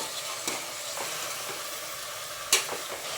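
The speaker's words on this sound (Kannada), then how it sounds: "ಹಾಲಲ್ಲಿ ಚೆನ್ನಾಗಿ ಫ್ರೈ ಆಗಿದೆ ಆಲೂಗಡ್ಡೆ ಬದನೆಕಾಯಿ ಕಳೆ ಬೀಜ" Potatoes, eggplant and peanuts fry in oil with a constant loud sizzle, broken by a few soft stirring scrapes and one sharper clank near the end.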